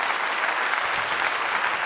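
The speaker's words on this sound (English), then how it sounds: "let me give you a clap" Steady applause from a small group, clapping for a guest at the close of a conversation, dense and even throughout with no talk over it.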